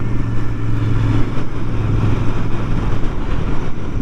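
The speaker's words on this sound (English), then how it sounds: "I suppose I best talk about the motorbike that I'm on, really, aren't I? So it's a Royal Enfield Interceptor 650" A Royal Enfield Interceptor 650 motorcycle is ridden along a private road in Wales. Its low engine thrum blends with heavy wind rumble that stays loud and steady, without a clear change in revs.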